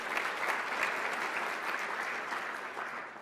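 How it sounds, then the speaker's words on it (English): An audience at a panel event on the talent pipeline claps steadily, a dense sustained round of applause heard alone without talk. "Let's give them another round of applause."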